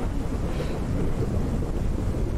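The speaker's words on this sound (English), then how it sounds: "The rain effect is pretty intense." Heavy rain with a low thunder rumble in the horror game Pacify, a steady, loud, broadband wash with no voices.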